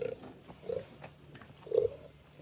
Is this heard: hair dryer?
no